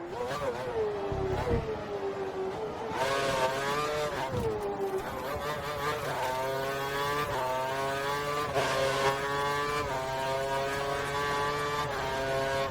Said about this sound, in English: We're about to get lapped by the lead Mercedes